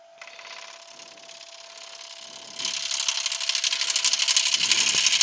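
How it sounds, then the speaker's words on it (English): A 3/8 bowl gouge making a final light cleaning pass inside a bowl on a wood lathe, a steady whirring hiss with a fine rapid chatter that grows louder and rougher partway through, close and alone. "Just run the final pass with a 3/8 bowl gouge through there, just to clean that out down there."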